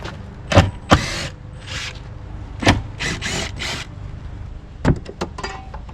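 Metal bolts being unfastened from a removable interior panel in a DIY camper van, heard as a few sharp, close mechanical clicks and creaks with scraping handling noise between them.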